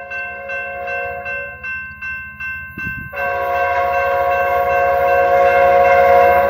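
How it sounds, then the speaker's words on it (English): Amtrak San Joaquins train 713, northbound with an F59PHI locomotive, passes a grade crossing at E Clayton Ave in Fresno, California. A loud, sustained multi-tone horn sounds in repeated blasts, then one long blast over rising engine and wheel rumble close by. "here comes San Joaquin train 713, your northbound train to Oakland, Jack London Square, passing by Clayton Avenue"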